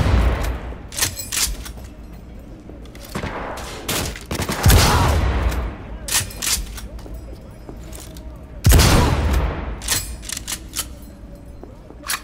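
Repeated gunfire bursts and booming shots in the Cyberpunk video game, loud and up close, with heavy hits near the middle and again later, a voice briefly heard amid the shooting.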